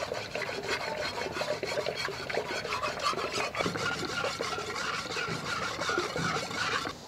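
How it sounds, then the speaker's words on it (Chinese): Kitchen knife being sharpened, a continuous gritty rasping scrape of blade strokes on a stone, steady and close without talk. "我先把刀磨一下，这个刀呢太小磨磨了"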